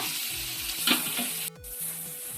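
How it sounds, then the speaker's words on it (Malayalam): Four sliced onions go into a hot pan for Kerala-style meat rice and are stirred, giving a soft continuous sizzle with a brief scraping burst and one sudden clatter, fairly quiet and close. "അതും കൂടി ഇതിനകത്തേക്ക് ആഡ് ചെയ്ത് കൊടുക്കാം ചേർത്ത് നന്നായിട്ട് ഇളക്കി കൊടുക്കുക"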